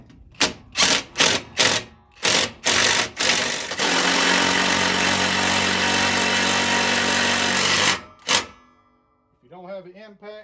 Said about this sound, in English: I'm fixing to make the threads.